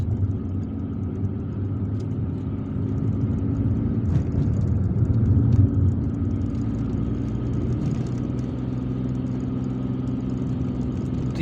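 A car drives along a very bumpy road through the Kouba neighborhood of Algiers, its steady mid-pitched engine rumble carrying continuous rattles and clatter from the rough surface, close and even throughout.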